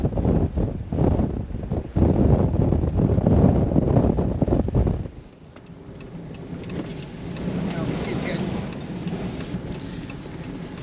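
Loud, blustery wind buffets and roars across the microphone during a bike race, heavy for the first five seconds and then dropping to a steadier, softer rush.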